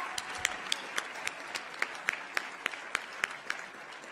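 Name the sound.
audience applause at a graduation ceremony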